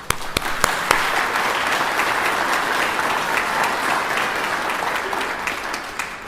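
At a nursing school pinning ceremony, a crowd gives sustained applause to the graduates' families and friends. A few sharp near claps open a thick, even wash of clapping that continues without speech.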